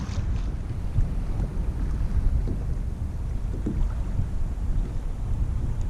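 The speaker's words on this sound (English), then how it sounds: "the tide is changing and the wind is picking up" Steady wind gusting over open tidal water around a fishing kayak near the Broad River Bridge in Beaufort, South Carolina, a continuous low rumbling buffet against the microphone with no talking.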